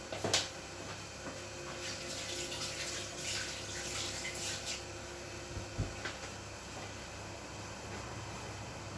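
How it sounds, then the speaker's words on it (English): Tap water runs in a kitchen sink during handwashing, a soft steady splashing stream with a few brief clunks, fairly quiet and heard alone. "so I'm just going to wash my hands"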